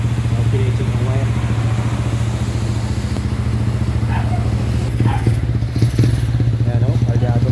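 A motorcycle engine misfires after its carburetor was cleaned, producing a close, low, continuous drone broken by uneven stumbles and pops near the end, with a voice speaking briefly over it.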